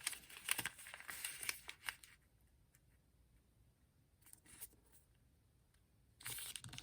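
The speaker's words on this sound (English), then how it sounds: "We're just going to fold this in half." Paper being folded in half for an origami flexagon: a burst of crisp crinkling and rustling, a long quiet stretch with faint soft ticks, then another close rustle of creasing at the end.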